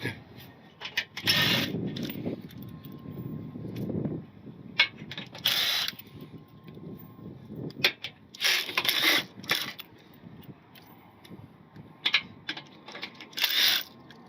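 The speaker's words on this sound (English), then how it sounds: "So we got to unbolt this." Hand tools clatter and ratchet in irregular bursts while a winch plate from a Harbor Freight winch is unbolted in a parking lot, with close metallic clicks, scrapes and knocks and no talk.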